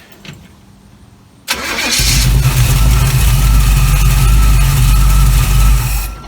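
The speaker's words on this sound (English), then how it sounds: "hopefully it'll just start right up, probably even without gas because it's still warm" A 1936 Chevy engine with a Holley carburetor cranks and catches, then settles into a loud, steady low idle, close by.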